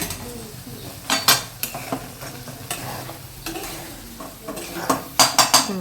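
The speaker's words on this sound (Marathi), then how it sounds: "याला थोडासा परतवायला वेळ लागतो थोडासा लालसर करण्यास भाजायचं त्याला" Semolina for sheera being stirred and roasted in ghee in a metal pan: a soft continuous sizzle with repeated scraping and clinking of a spoon against the pan, growing busier and louder toward the end.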